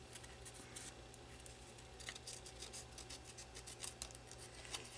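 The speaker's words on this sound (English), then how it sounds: "So let's just cut this off." Scissors snipping off a piece of lift ink, a quiet series of close, quick cutting clicks and crisp snips over a low steady background hum.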